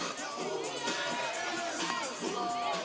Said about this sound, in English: the cheers of the crowd